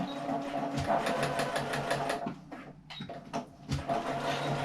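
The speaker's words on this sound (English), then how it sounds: "So again, a little bit of back stitching" A sewing machine runs in quick bursts while back stitching a seam on a small fabric hand sanitizer pouch, the steady needle chatter pausing briefly midway and then resuming, close and alone.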